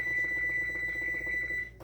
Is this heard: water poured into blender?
no